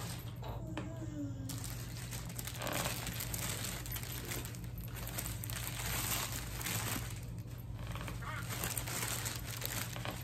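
Plastic bag crinkling around a faux leather Chanel handbag, rustling and crackling close up throughout under a constant low hum, with occasional soft handling noises.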